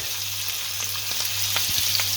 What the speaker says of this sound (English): Just drop that in the pan, let that sizzle away.